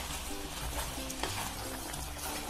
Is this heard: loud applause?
no